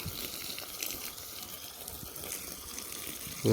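Water rushing from a pipe onto garden plants at midday, a steady hissing gush that runs unbroken and fairly close, ending with a brief bump.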